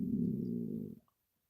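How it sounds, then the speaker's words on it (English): A stomach rumble, a low, growling gurgle heard up close and alone for about a second before it cuts off into silence. "Sorry, that was my stomach."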